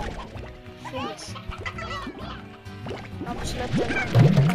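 Chickens in the video game Slime Rancher cluck in a few short rising chirps, heard under someone talking over game sounds.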